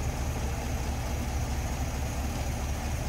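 A 1949 Cadillac Series 62 sedan with its original 331 cubic inch overhead-valve V8 idles steadily, a smooth, even low rumble held close and constant throughout with no talk over it.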